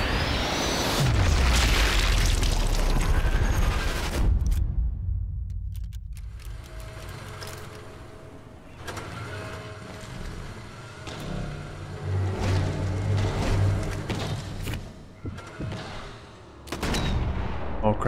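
Heavy gunshots and booming blasts from the Sniper Elite 4 wartime shooter, loud and repeated at intervals, with a sudden sharp report opening the sequence and more shots layered over rumbling engine and ambient battle noise.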